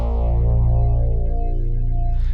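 Layered synth patch on a Korg MicroKorg with two synth engines stacked, a sustained tonal chord with buzzy harmonics and a higher voice line moving over a bass, loud and alone.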